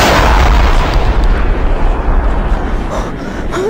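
Loud, dense booming gunfire from a monster in a Cloverfield-style spoof, rolling blasts and rumble filling the whole stretch, close and overwhelming, with no talk.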